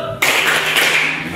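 A classroom of students claps out a short 'tepuk salut' rhythmic cheer, the claps starting suddenly and carrying on briskly and loudly for about a second.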